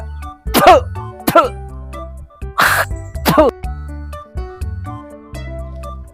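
An old man coughs repeatedly, with harsh, loud bursts separated by short pauses over a backing of tonal music, plus one noisy throat-clearing or spitting sound in the middle.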